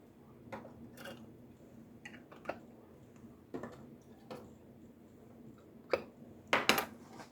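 Hot metal canning lids set onto filled jars of pickled banana peppers, heard as a few faint, light metallic clicks and taps scattered through a quiet kitchen.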